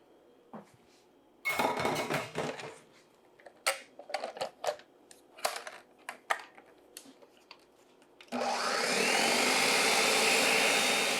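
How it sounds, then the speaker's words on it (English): Clinks and clatters of kitchen handling give way to a loud, steady blender whir frothing a pumpkin mixture that runs continuously to the end. "it's just as easy to use a regular blender. Just pour the mixture in, and we're gonna froth it up."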